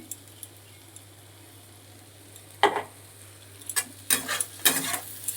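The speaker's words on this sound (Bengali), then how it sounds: "এবার একটুখানি ভালো করে নাড়াচাড়া করে নিই" Fried soybean chunks with ginger powder in a pan sit under a faint, quiet fry, then a handful of brisk scraping strokes of a spoon against the pan break in, growing more frequent toward the end.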